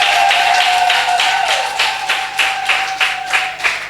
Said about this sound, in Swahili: hebu mnyooshe Mungu, mpigie makofi mengi kabisa